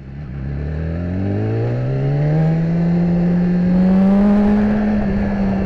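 A BMW S1000RR motorcycle on a back road, its engine note rising smoothly under acceleration and holding a loud, steady high-revving drone, heard close and alone.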